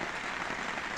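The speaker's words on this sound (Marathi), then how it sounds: "पाऊस येत आहे." Rain falls steadily during an outing near Kapurbawdi, a dense, even hiss with no breaks that holds at a constant level throughout the second, close and enveloping.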